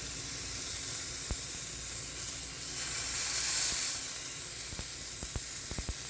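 Onion sizzles steadily in a hot pan for an Oklahoma onion burger, a continuous close hiss with a few sharp ticks and pops near the end.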